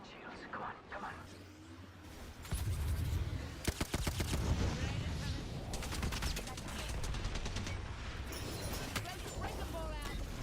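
Rapid, dense bursts of automatic gunfire from the battle royale game Apex Legends during an ALGS Regional Finals match. Sharp volleys crowd together into a continuous loud rumble, with a voice faintly underneath.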